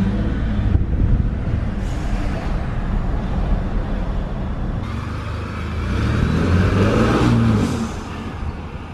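A Ford F-150 with a 3.5L engine, cold air intake and TurboSmart blow-off valve revs loudly up close, the engine note rising and swelling toward the end before easing off, with no talking over it.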